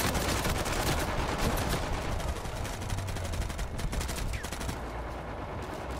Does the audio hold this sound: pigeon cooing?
no